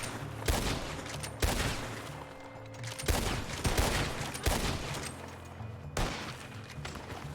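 Gunfire in the Western role-play game RedM, several sharp loud bursts cracking out at irregular intervals with a continuous noisy backdrop between shots.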